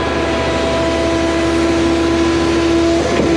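A Schwing concrete pump on a large pour runs steadily, giving a continuous mechanical hum with a sustained whine that shifts pitch near the end, moderately loud and without voices.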